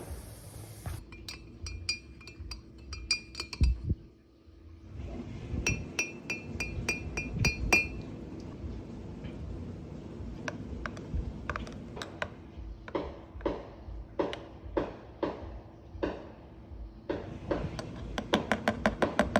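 Spice rub mixed in a glass jar gives scattered clinks, taps and light rattling at an irregular pace, close but quiet, with a grainy rustle underneath and no talking.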